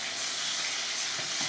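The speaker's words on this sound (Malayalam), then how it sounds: "അപ്പോൾ ഞാൻ അത് 2 ട്രിപ്പായിട്ടോ പൊരിച്ചെടുക്കുന്നത്" Quail fry in hot oil in a pan, the second batch of a home Eid feast in Kerala, a steady, close, bright sizzle that fills the whole moment with no talk.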